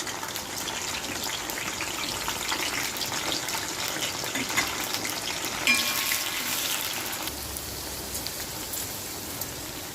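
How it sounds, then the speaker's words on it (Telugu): Okra pieces frying in oil in a pan, producing a continuous crackling sizzle like rain that stays fairly loud and even across the whole stretch, softening slightly near the end, with no speech over it. "బెండకాయలు ఈ విధంగా వేసుకుంటాం. కొంచెం ఫ్రై అవుతే చాలు."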